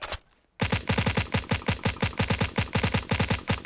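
Rapid bursts of automatic gunfire from a 30-round weapon in the Phantom Forces shooter game, a steady rhythmic stutter of loud close shots running continuously after a brief silent gap.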